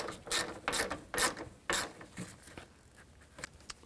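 Mounting bolts for a side mirror on a 2007-2014 GMC Sierra 3500 are snugged up with a ratchet, giving several loud bursts of clicking in the first two seconds, then softer, sparser clicks.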